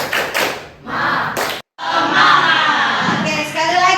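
A group of students in a classroom does the 'tepuk semangat' clapping chant as an ice-breaker, loud massed voices shouting together with claps and thuds in bursts, then a brief silence before the chant resumes.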